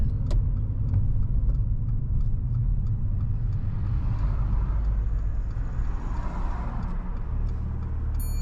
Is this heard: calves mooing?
no